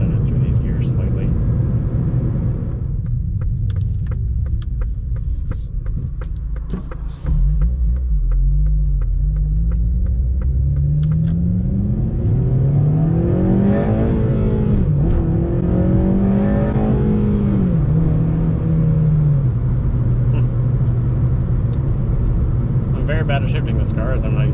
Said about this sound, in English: I just wouldn't mind doing a little bit of a pull and shifting it through these gears slightly.